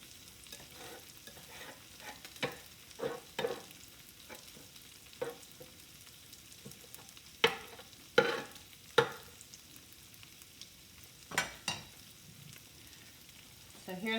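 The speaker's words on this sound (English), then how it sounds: "authentic carnitas that have been simmering in lard" Carnitas crisping in hot lard, with low, steady frying hiss and a string of sharp scraping and stirring clicks as the pieces are moved apart in the pan, at close range with no talking.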